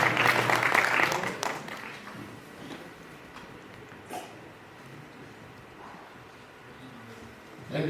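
Audience applause at a music album release event on stage, a loud burst of clapping in the first second and a half that quickly fades into a quieter room with scattered sounds.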